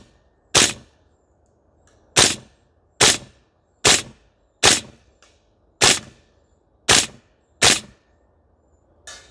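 A CYMA CGS MWS gas blowback airsoft rifle fires about nine separate single shots at an uneven pace, each a sharp loud crack with a short tail, over quiet outdoor range ambience.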